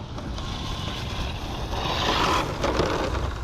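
An Arrma Kraton 12S RC car, rebuilt, runs at full throttle with a loud, constant roar of motor and drivetrain that swells slightly toward the middle and carries no pauses.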